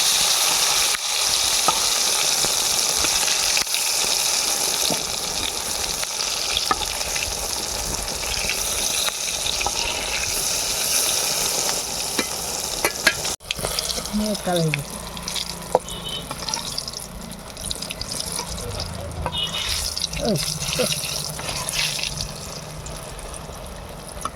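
Eggplant slices frying in hot oil in a village kitchen, a steady loud sizzle filling the whole stretch, with brief scraping and clatter partway through as slices are added and turned.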